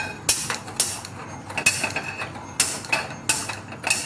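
A kitchen gas stove knob is turned and clicked to light the burner under a pan of oil, giving a series of sharp mechanical clicks and ratcheting snaps at irregular intervals, close and fairly loud with no talk.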